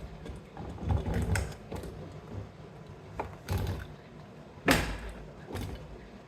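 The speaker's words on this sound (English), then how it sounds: "So I'm going to take all these nuts off the new mirror and get this posted up." Nuts being taken off a new side view mirror for a 1994 Chevy K1500: intermittent close metallic clicks, clunks and rattles, with one sharp knock toward the end.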